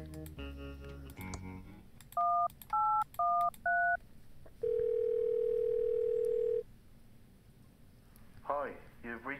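Telephone dialing tones in the Thimbleweed Park video game: a run of distinct touch-tone beeps in quick succession, then a long steady dial tone, with a voice speaking briefly before and after.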